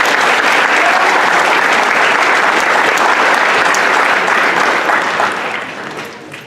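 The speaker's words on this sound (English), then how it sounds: "Big round of applause for everyone." Audience at a school's Bellringer Day event breaks into loud, dense applause that holds steady and then fades toward the end, with no voices over it.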